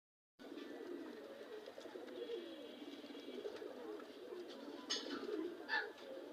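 Kaldom pigeons coo in a steady, low murmuring chorus close by, with several overlapping birds and a few brighter chirps near the end.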